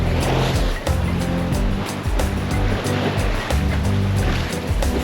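A sailboat driving through waves at almost 8 knots in 15 knots of wind, with a steady rush of water and wind along the hull and low rumbling gusts, loud and continuous throughout.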